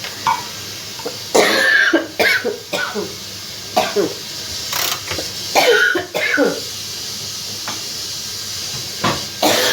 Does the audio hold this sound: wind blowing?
no